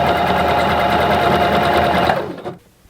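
A home sewing machine stitches stretchy leotard fabric in one steady, loud, close run of rapid needle strokes that slows and stops near the end, with no talking.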